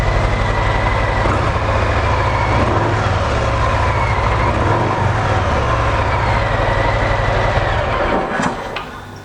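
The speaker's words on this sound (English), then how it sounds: "that's the sound of the basic exhaust system that comes with your bike" A 2018 Harley Davidson Softail Heritage Classic idles on its stock exhaust, a close, steady, deep lumpy throb that holds even before tailing off slightly at the end.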